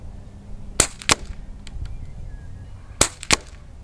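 A power-modded Air Venturi Alpha air rifle in Terminador Edition fires four sharp, loud shots in two quick pairs, each a crisp crack with a short tail, in a quiet setting.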